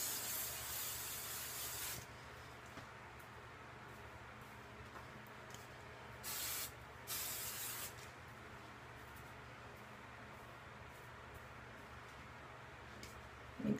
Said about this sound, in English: So I'll spray my hair and then I'll kind of run my fingers through it.